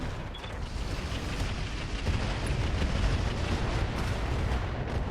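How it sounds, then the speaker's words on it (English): Artillery strike on a sniper cannon turret in the RogueTech BattleTech game: a sustained, rumbling barrage of heavy booms and explosions, loud and continuous, with no talk. "we're going to drop artillery on this sniper cannon turret"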